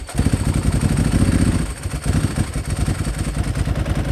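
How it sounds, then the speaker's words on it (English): A Ducati motorcycle engine turns over and catches, settling into a loud, lumpy, clattering idle close by, with no talking. "Not everybody likes the noise of a Ducati."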